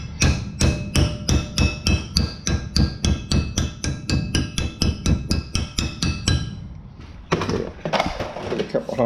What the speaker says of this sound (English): Carpenter's hammer.